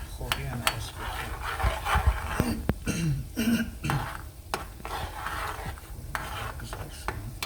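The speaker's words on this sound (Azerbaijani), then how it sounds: "Soğan yavaş-yavaş qızarır." Onion and carrot fry in a pan with steady sizzling under scraping and stirring strokes, the sound of a spatula working the vegetables close up, with occasional clinks.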